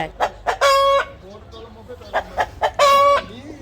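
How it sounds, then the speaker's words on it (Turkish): Chickens under lemon, mandarin and orange trees cluck loudly and close by, with two drawn-out crowing calls among short bursts of clucks. "mandalin, portakal ağacının başında tavuklar"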